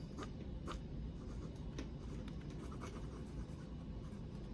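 Fast handwriting with a Leonardo Poliedrica Blue Dragon fountain pen's steel nib on paper, a soft continuous scratchy rasp with quick faint stroke ticks, close and quiet.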